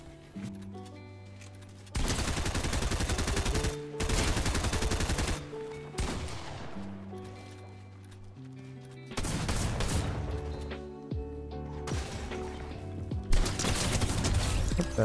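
SMG gunfire in Fortnite, with several rapid bursts of automatic fire, loud and close, and short pauses between the strings of shots against a background of game music tones.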